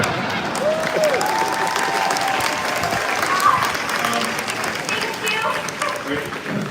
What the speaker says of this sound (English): They clapped for that part.